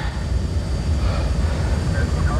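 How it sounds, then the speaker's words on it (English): Aircraft engines drone in a loud, steady low rumble with a constant roar close by as they are shut down near the end of a runway. "Engines off at your discretion."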